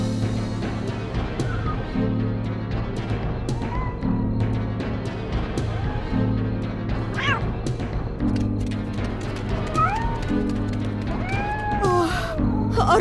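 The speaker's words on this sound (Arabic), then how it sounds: "لقد جوعت القطة ولم أطعمها شيئاً منذ الأمس." A hungry cat meows repeatedly in short rising cries, scattered over a steady low droning background and a busy mix of sounds.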